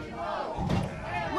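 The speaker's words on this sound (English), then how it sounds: "Listen to this crowd." A wrestling crowd at a live MWO show roars steadily, a dense, loud wall of cheering and shouting that swells briefly midway, with no clear single voice standing out.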